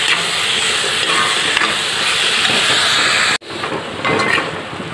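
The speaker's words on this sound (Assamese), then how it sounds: "অলপ অকণ ফ্ৰাই কৰি ল'ম" Boiled grated carrot frying in ghee for carrot halwa, a loud close continuous sizzle with stirring that cuts off sharply near the end, then resumes more quietly, with no voices.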